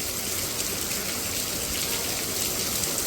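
Heavy rain pours steadily during a downpour in Punjab, a dense, loud hiss of drops drumming on surfaces with water gushing, continuous and without pause.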